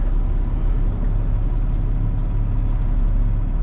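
A semi truck backing in, with a heavy low diesel rumble idling steadily and a brief burst of air brake hiss near the start, no voices.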